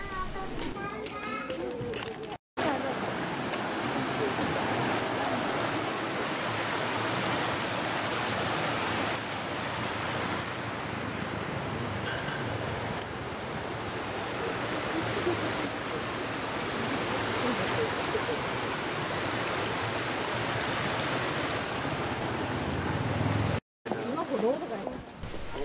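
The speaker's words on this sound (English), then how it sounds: "Walking in woods along a pellucid brook for 50 minutes, you reach the waterfall." A brook flowing through woods toward Minoo waterfall near Osaka, a steady broadband rush of water throughout, with children's voices and chatter faintly mixed in.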